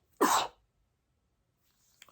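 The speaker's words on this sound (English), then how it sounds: "Who sneezed?" A single sharp, loud sneeze sounds close by in a quiet indoor room during a knitting session, followed by silence and a faint rustle at the end.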